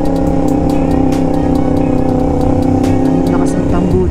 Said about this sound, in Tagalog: Lakas ng tambucho.